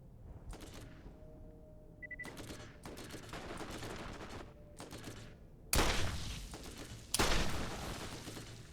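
Gunfire in the video game Borderlands, with bursts of shots over a steady game background and two louder, heavier blasts near the end.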